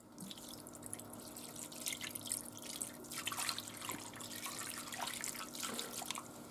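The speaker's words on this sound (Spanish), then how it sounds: "Ahora echamos el cava por encima" Cava poured over hake in a baking dish, with orange juice and salt among the other ingredients, gives a soft continuous splashing and dripping trickle at close range, with no voices.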